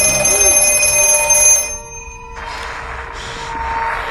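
A telephone rings in the horror film The Black Phone, with bright, sustained bell-like tones that cut off briefly and then return for a second ring, heard without talk.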